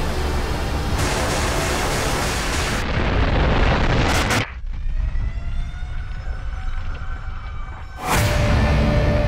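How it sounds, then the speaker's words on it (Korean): Mount Baekdu's volcanic eruption rendered as a movie-trailer explosion: a sustained, thunderous rumbling roar with bursts layered on, a sudden dip to a lower, ringing rumble, then another loud blast near the end. "백두산 화산이 폭발했습니다."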